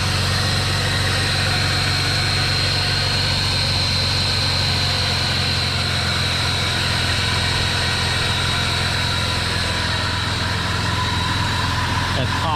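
Boosted engine in a BMW E36 M3, running steadily after mechanical assembly with a deep, even drone and a faint high whine, close and constant throughout.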